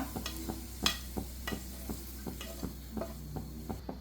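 Okra sautéing in a pan, with a soft sizzle under a steady rhythm of spatula taps and scrapes against the pan, close but quiet, with no talking.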